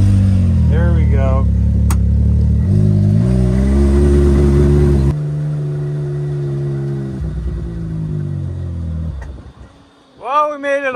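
A 4x4 truck with a broken exhaust at a drag race runs loud and rough, its engine droning and shifting through several steps before easing off and surging into a brief revving burst near the end, with voices in the background.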